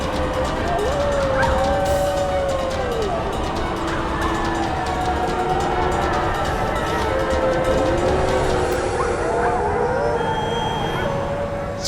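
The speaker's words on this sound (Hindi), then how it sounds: "सियार के रोने की आवाज इसी दिशा से आ रही है।" A jackal howls in long wavering, rising and falling cries over a dense, noisy background, with dog-like yelps mixed in.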